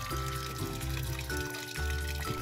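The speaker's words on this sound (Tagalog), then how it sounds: "Ang una muna nating gagawin ay magsasayang tayo ng 1 kilo ng malagkit na bigas. Huhugasan natin ito ng 3 beses." One kilo of glutinous rice being washed in water, a steady sloshing and pouring with tonal musical background throughout.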